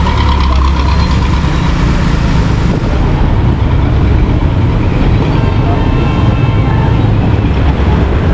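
A water pump runs steadily to drain a rain-flooded market, a loud continuous engine-like rumble and drone holding without a break, with no voices.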